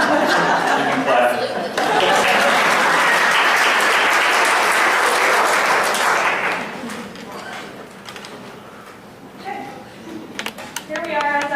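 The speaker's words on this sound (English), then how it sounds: "You can clap." An audience at a superintendent's forum applauds loudly and steadily for about six seconds, then the clapping fades into scattered chatter and light laughter nearby.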